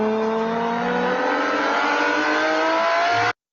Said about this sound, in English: this is what a supercar should sound like